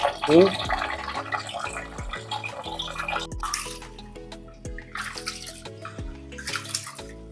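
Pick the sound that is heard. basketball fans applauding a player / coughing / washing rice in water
washing rice in water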